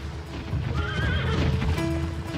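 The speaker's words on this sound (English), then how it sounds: "Imagine these early horses being brought over." A horse neighs with a rising, wavering whinny, followed by a second shorter call, over a steady clatter of hooves, close by and without speech.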